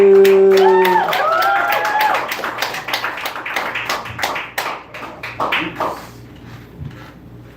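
An audience claps for a comedian at a live comedy show: a burst of fairly close, crisp handclaps swelling just after a musical sting, then thinning out and fading to near silence.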